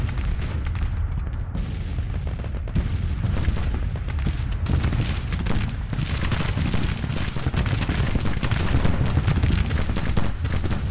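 Continuous volleys of artillery booms and rifle fire roll through a Civil War battle in the strategy game Grand Tactician, 1861-1865, a dense, loud barrage of overlapping shots and blasts with no pause.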